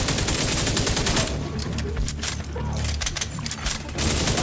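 Dense gunfire in The Division 2 during an attack on the Grand Washington Hotel, loud and continuous, with overlapping rapid bursts and a steady automatic-fire clatter throughout.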